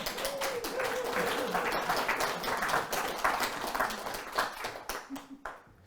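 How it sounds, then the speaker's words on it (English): Seminar audience applauding themselves, a dense wash of clapping with scattered voices and cheers mixed in, steady at first and then thinning out toward the end. "Give yourselves a round of applause"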